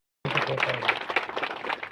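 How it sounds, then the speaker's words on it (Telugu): An audience at a ministers' public event on fishermen's welfare bursts into applause after a short silence. Dense, lively clapping from many hands fills the room and continues to the end. "గట్టిగా ఆయనకు ఒకసారి చప్పట్లు కొట్టాల్సి"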